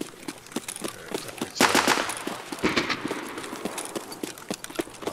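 A string of sharp pistol shots cracks in Escape from Tarkov, with repeated quick reports at moderate distance and one louder burst in the middle.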